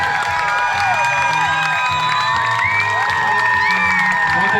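Guests at a wedding reception applaud and cheer the arriving couple in a loud, continuous wash of whoops, shrieks and high excited voices over clapping, the crowd noise staying level from start to finish.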